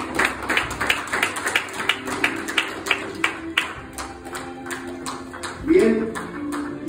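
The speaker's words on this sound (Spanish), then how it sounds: "Vamos a dar un aplauso a este séquito lindo y maravilloso." Wedding guests clap for the wedding party as it takes its seats, a steady run of sharp claps over several seconds with a voice speaking over them near the end.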